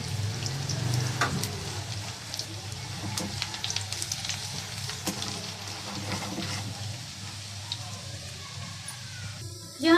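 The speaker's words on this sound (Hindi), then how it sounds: "लहसुन को लाइट ब्राउन होने तक जो है वो ऑयल में भूनेंगे।" Chopped garlic fries in oil for dal, a soft continuous sizzle close by with scattered pops and faint kitchen clatter.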